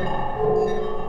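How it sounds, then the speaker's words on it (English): Footsteps from walking in Minecraft, run through a Moog ladder filter with reverb, come out as a brief, dense, resonant wash of tones rather than distinct steps, fairly loud with no talking. "here is the sound of me walking through Minecraft, and it is then filtered through that crazy filter."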